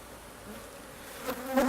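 Honeybees buzz around an opened hive during an inspection, a soft droning hum that swells as individual bees fly close past toward the end.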